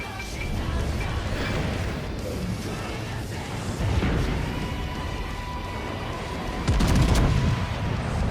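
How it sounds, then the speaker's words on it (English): Battleship secondary guns firing in the naval combat game World of Warships, with a continuous, loud barrage of overlapping cannon reports and booms and a heavier salvo near the end. "My secondaries are already lighting up the Kansas"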